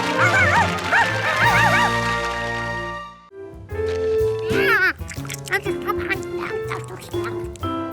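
Cartoon dog yips, whimpers and barks in quick high-pitched bursts, mixed with music and voices.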